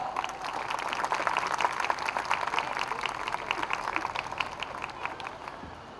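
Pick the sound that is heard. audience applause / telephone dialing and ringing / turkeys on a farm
audience applause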